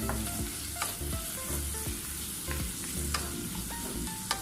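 Garlic frying in a pan while sotanghon noodles with canned tuna are prepared makes a continuous close sizzle with rhythmic scraping stirs throughout, and no one speaks.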